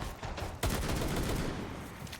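A grenade blast and gunfire in a competitive tactical shooter match, arriving as a dense burst of loud explosive and crackling reports that carry on for a couple of seconds.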